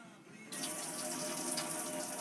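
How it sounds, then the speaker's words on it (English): Cold water running from a tap at a counter with courtesy lighting, starting abruptly after a brief quiet moment and then pouring as a steady, close hiss. "So just to confirm, you've got cold running water,"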